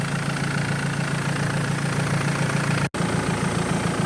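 A BMW X3 engine idling steadily while it warms up, a constant even hum heard close with a low rhythmic throb and no other sound.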